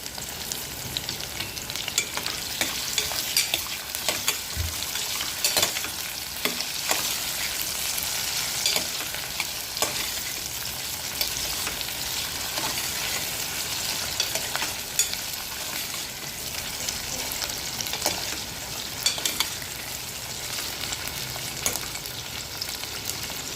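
Onions sautéing in a pan for Gujarati-style vaghareli khichdi give a steady, moderate sizzle, broken by occasional clacks and scrapes of stirring, with no voices.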